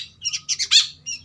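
A kutilang bird (sooty-headed bulbul), kept as a free-flying pet, gives a run of sharp squawking calls in close succession, clear and near, with a short pause before a final call.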